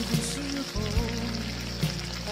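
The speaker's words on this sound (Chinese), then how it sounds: "然后现在是翻炒均匀" Spicy cold-eating lobster with dried chilies and spices is stir-fried in a wok, giving a steady sizzle and crackle with intermittent scraping clatter as the pieces are tossed, close and continuous.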